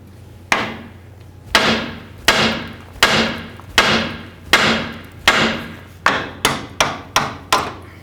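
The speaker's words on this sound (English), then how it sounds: "We're going to do that by hitting right on the knuckle with our hammer." A hammer strikes the steering knuckle of a 1994-2004 Chevy S-10 to pop loose the tie rod end, about a dozen sharp metallic blows with short ringing decay, spaced steadily then quickening near the end, close and loud with no talk.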